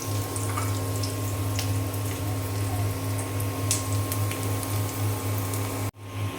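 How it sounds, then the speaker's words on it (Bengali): Chopped garlic, onion and whole cumin frying in oil in a home kitchen, a steady hissing sizzle over a constant low hum, cutting out briefly near the end. "তেলে দিয়ে দিয়েছি আমি রসুন কুচি পেঁয়াজ কুচি আর আস্ত জিরা এখন আমি সুন্দর করে ভেজে নেব"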